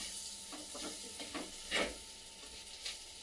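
Bitter gourd curry fries in a clay pot, village style, with a soft steady sizzle and several light scraping stirs of a spoon, one louder scrape midway, with no talking.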